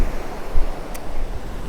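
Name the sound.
ocean waves breaking on the shore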